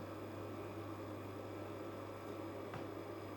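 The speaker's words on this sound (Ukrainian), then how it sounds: "Він працює? І холодильник працює." A refrigerator powered by a 500 W pure sine wave inverter runs with a faint, steady low hum and a light even whir, with no talking over it.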